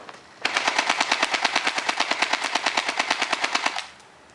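An AK-47 airsoft rifle fires a rapid fully automatic burst of about thirty evenly spaced sharp pops over roughly three seconds, loud and close, with no voices.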